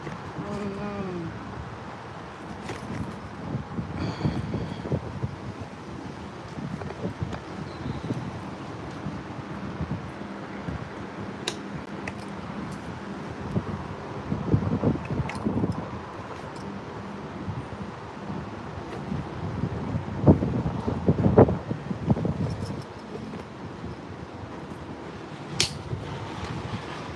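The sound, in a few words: wind outdoors in garden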